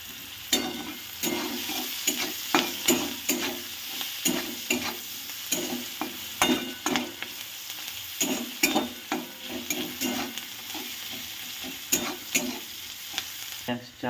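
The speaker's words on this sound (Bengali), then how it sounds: "পেঁয়াজটা একটু তাড়াতাড়ি ভাজা হওয়ার জন্য আমি একটু লবণ দিয়ে দিলাম।" Sliced onions sizzle in a hot pan with a pinch of salt for a mustard-and-pointed-gourd curry, with close, steady frying hiss broken by repeated sharp spatula scrapes and knocks against the pan, no voices.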